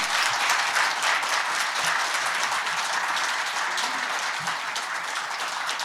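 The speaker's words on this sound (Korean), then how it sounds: "뜨거운 박수 부탁드립니다." Audience applause fills a Korean company renaming and headquarters relocation ceremony for Shinhan Fund Partners, a dense, steady wash of many hands clapping at once that holds its level for several seconds, easing only slightly near the end.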